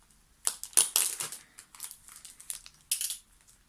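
Plastic wrapping on a K-pop album is peeled and torn open by hand, close crinkling and crackling bursts in short irregular bursts, with no talking.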